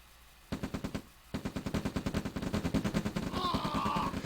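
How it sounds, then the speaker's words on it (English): Riflemen open fire in a strategy video game: bursts of rapid rattling gunshots, a short volley then a long sustained stream of repeated shots, loud and close, with a brief higher sound layered near the end. "Sigil's forces opening fire while Cotton is still on the move."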